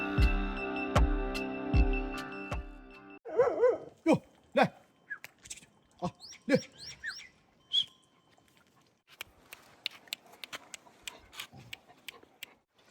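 Himalayan breed dogs bark in a cold mountain village, a run of loud, sharp barks in quick bursts followed by scattered fainter yaps farther off, with a bird chirping in the background.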